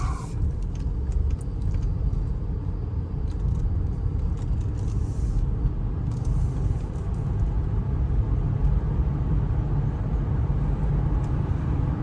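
A 2005 Lincoln Town Car Signature cruises along the road with a steady low rumble of engine and tire noise, and a constant wash of road roar stays close and even throughout, with no voices.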